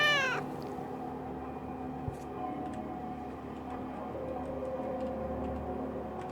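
A cat in a video game gives a short, bright meow at the start, then settles into a quieter background with faint ticking and a low steady hum.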